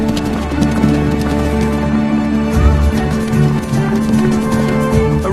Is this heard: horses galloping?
yes